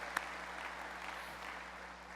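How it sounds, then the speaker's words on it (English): An audience at a company conference general session claps in a soft, even wash of applause that begins with one sharp clap and holds steady, somewhat distant, before fading slightly at the end. "let's give Kristen a round of applause"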